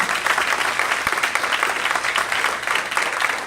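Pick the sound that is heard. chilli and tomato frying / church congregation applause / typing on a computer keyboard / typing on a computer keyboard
church congregation applause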